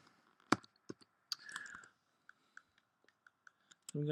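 Scattered soft clicks, close and quiet, tap out at irregular intervals, with a brief rustle partway through and a low murmur at the end.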